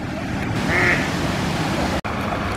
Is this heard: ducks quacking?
yes